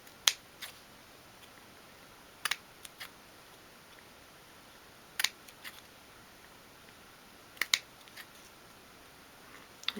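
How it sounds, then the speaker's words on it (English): Scissors snip the paper corners of a dolls house wall shelf in sparse, crisp clicks, alone in a quiet room, with single and paired cuts spaced a couple of seconds apart. "And then bring in your scissors and just cut along each corner."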